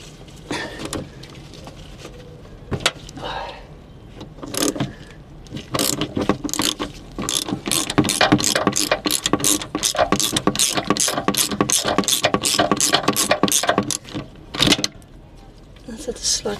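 A ratchet loosens the idler pulley on a Peugeot 206cc during a timing belt job, giving a long, fast run of close, crisp clicks after a few scattered clanks.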